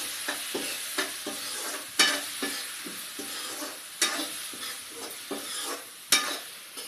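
Ground spice masala being stirred into a frying fig (gular) curry in a village kitchen, with a steady sizzle and sharp periodic scraping clacks of the spoon against the pan about every second, with no talk.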